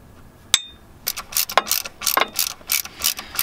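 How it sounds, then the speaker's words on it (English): A ratchet loosens the fasteners on a starter inspection cover of a GM 3400 V6: a sharp metallic click, then a quick series of ratcheting clicks and scrapes, close and fairly loud, with no speech. "Loosen them up just a bit."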